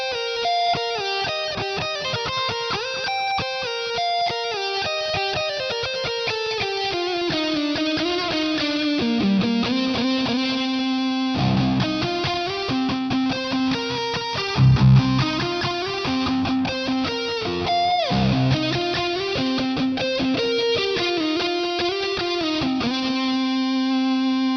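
Distorted electric guitar through a Mooer GE150 Max, chained from a flex boost into a fat phaser, analog delay and cave reverb, playing a continuous rock riff with ringing sustained chords and a swirling, spacious tail throughout.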